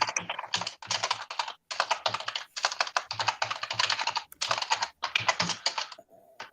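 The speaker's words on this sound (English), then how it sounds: "there is now someone typing" Rapid typing on a computer keyboard during an online board meeting, close and fairly loud, with bursts of quick clicking keystrokes separated by brief pauses.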